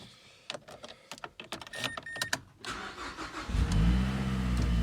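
A 2012 Mazdaspeed 3 turbocharged engine cold-starts after a few seconds of clicks and rustling, the starter catching into a loud, steady rumbling idle that fills the rest of the moment.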